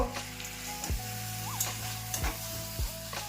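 A dish that is sticking to the bottom of the pan sizzles steadily while a utensil stirs it, scraping and knocking against the pan in several distinct strokes.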